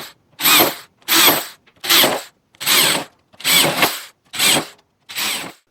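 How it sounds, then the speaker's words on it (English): Seven short bursts of a power drill boring spot weld holes through the steel door skin of a BMW 2002, each loud whine lasting about half a second with brief gaps between, close up and free of speech. "we're going to drill the new holes for the spot welds"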